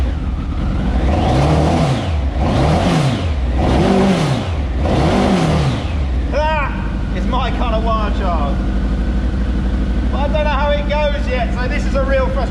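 A car engine capable of 14,000 RPM is revved hard four times in a row, each a loud rising and falling roar, then settles into a loud steady idle while a voice talks over it.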